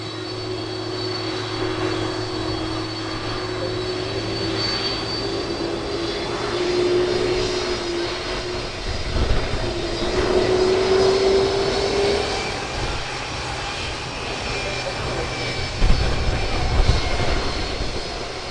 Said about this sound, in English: we'll let you enjoy the sound of these engines straight in front of us.